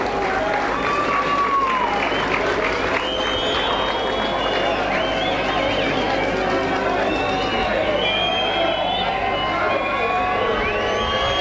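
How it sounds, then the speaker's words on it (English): A rugby league crowd at a Challenge Cup match between Dewsbury Rams and Leigh keeps up a sustained wall of cheers, whistles and shouts from Leigh supporters during Maloney's conversion attempt, with a commentator talking over the din. "Cheers from the Leigh section of the crowd trying to put him off"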